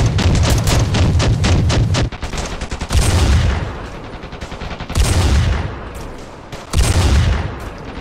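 Rapid bursts of loud, close gunfire while sniping in the video game Ravenfield, fired in several volleys separated by brief pauses and echoing tails.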